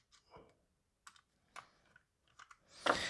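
A Quickshot 2 joystick's fire button gives a handful of sharp, sparse plastic clicks, close and fairly quiet, spaced irregularly and followed by a brief louder rustle.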